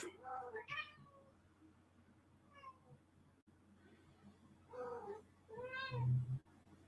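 A cat meows several times nearby while waiting for more food, a few short meows spread across several seconds with quiet gaps, ending in a louder, more insistent cry.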